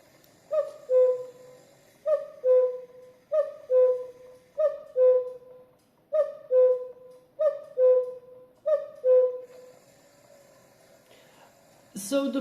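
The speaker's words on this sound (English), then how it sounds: "let's show the cuckoo in action." A designer cuckoo clock calls as its bird comes out: eight clear two-note cuckoo calls in a steady rhythm, close and clean, followed by a short clunk of mechanism at the end.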